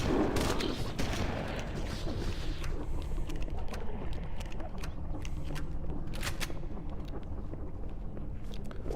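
Shotgun blasts in the video game Halo, fired in a dense, continuous volley of loud, sharp bursts that carry through the whole stretch without any talk.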